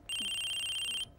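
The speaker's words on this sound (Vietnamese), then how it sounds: "Điện thoại của sếp tổng." A telephone ringtone, a boss's phone going off in a Vietnamese comedy sketch: one steady, bright electronic ring lasting about a second, loud and clear over a quiet room.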